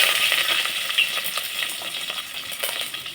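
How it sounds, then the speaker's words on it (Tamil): Curry leaves crackle and sizzle in hot oil with popped mustard seeds for a village-style cowpea curry, a bright, busy spitting hiss close up with scattered sharp pops throughout. "கடுகு பொறிஞ்சிருச்சு இப்போ கருவேப்பிலை சேர்த்துக்கலாம்"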